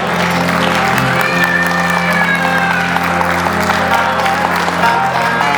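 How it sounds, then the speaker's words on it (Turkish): Steady, dense applause from a large audience, continuous throughout with faint voices and a tonal hum underneath. "Bir alkış istiyoruz kocaman."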